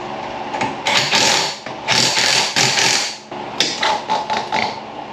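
Longer wheel bolts going onto a Mercedes C63 with a power tool, loud bursts of ratcheting, whirring and rattling separated by short pauses, close up.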